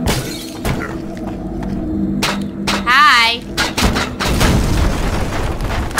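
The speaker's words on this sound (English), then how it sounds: "That's a nice explosion." Loud explosions in the post-apocalyptic Russian shooter You Are Empty: a dense run of crashing blasts and shattering debris, with a ringing, warbling burst near the middle, all thick and close throughout.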